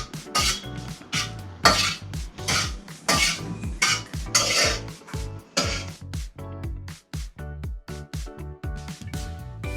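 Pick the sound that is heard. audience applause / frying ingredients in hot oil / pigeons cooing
frying ingredients in hot oil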